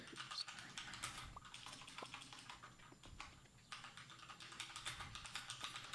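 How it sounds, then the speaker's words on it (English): Rapid clicks from a very clicky mechanical keyboard in a steady typing patter, close and fairly quiet, with brief pauses between bursts and no talking. "I have a very clicky mechanical keyboard"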